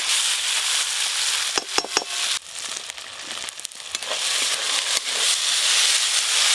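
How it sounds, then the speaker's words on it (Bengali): Ginger-garlic paste with chopped onion, turmeric and bay leaf frying in oil in a pan, a steady loud sizzle with sharp crackles and pops, stirred throughout, no voices. "মাংস রান্না করলে যেরকমভাবে মশলা কষি, ঠিক সেরকমভাবে এবার মশলা কষি"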